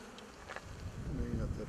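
Faint buzzing of honey bees at a hive, a soft continuous insect drone with a few louder passes near the end.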